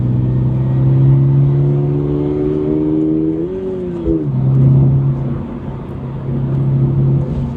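A 2025 Subaru BRZ tS pulling in fourth gear gives a steady, close in-cabin engine drone with a brief pitch dip and recovery midway, with no talk over it.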